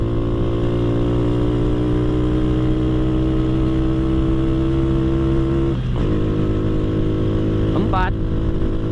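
A Honda Astrea Grand motorcycle fitted with a Jupiter carburetor drones loudly and steadily in third gear, its engine note holding constant before dipping briefly near six seconds and rising again in a quick rev around eight seconds.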